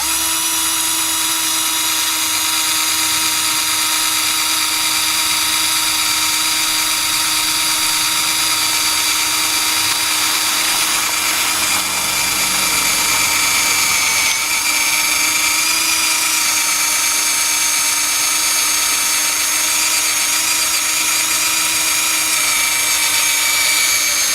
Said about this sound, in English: I'm gonna drill the Odin Mini with a drill.